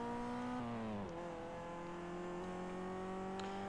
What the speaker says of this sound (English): That is a nice engine sound.